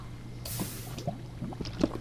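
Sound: water sound in the video game Minecraft

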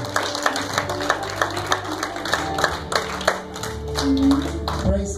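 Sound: congregation clapping in church

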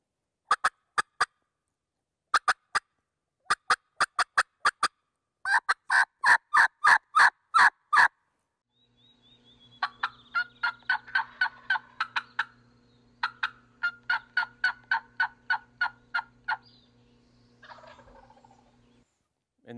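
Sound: wild turkey gobbling

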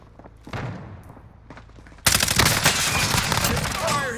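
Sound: gunfire in video game Call of Duty

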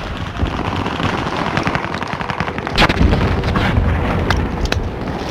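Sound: Nebula 5 bomb detonating in Call of Duty Warzone video game

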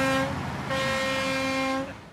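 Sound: garbage truck on snowy street

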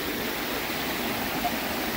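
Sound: waterfall

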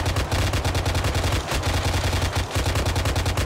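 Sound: suppressing gunfire in a video game

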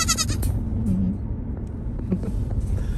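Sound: goats bleating

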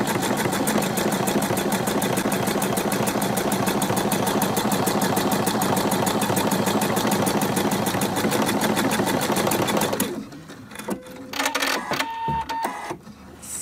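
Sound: sewing machine sewing a buttonhole

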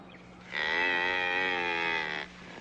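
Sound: cattle mooing

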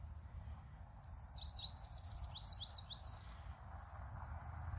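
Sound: goldfinch calling in a prairie yard

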